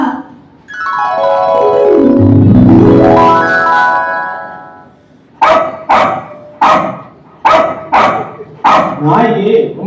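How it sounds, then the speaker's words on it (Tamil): A dog barks in a run of sharp, loud, evenly spaced barks close by, following a long wavering tonal sound that rises and falls like a howl or siren. "நாய்க்கு ரொம்ப நேரமா கத்திக்கிட்டே இருக்கு"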